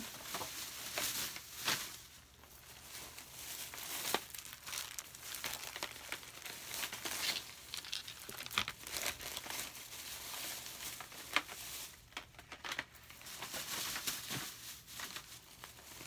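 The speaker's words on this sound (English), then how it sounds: "So let me put these in the toy bag." Thin plastic bag crinkling and rustling as Halloween toys such as pumpkins and bats are packed into it, a steady close crackle for about sixteen seconds with a few sharper crunches.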